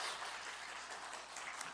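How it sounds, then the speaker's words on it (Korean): Faint, distant applause from a church congregation during a Sunday worship service, a steady wash of clapping that holds without a break throughout. "감사와 영광의 박수를 올려드리겠습니다"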